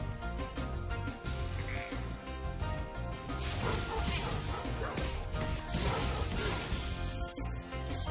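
Dog enemies in Spyro Reignited Trilogy bark and yip amid crashing hits and busy game sounds, with repeated sharp impacts over a dense musical backdrop.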